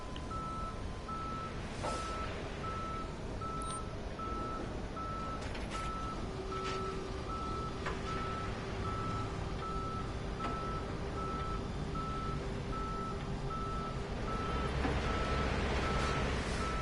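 Tow truck reversing in a police simulator game, a steady series of evenly spaced beeps repeating over a low engine rumble throughout.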